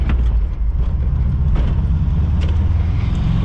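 A Volkswagen Vanagon van drives along city streets, heard from inside as a steady, loud low engine and road rumble with a few faint rattles and clicks on top, continuous throughout.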